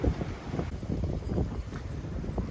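Gusty wind buffets the microphone outdoors while someone works on a 1959 Corvette, a continuous low rumbling roar with no talking.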